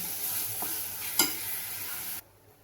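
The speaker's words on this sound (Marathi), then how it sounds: "चांगले याला परतून घेते." Spice paste with homemade red chili powder, turmeric and salt sautés in a pan, a bright, continuous sizzle with one brief stirring scrape midway, cutting off abruptly near the end.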